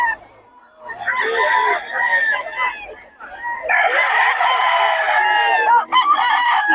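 Gamecock stags at a Bocaue poultry market crow and cluck loudly at close range in two long bursts separated by a brief lull, with more birds audible around them.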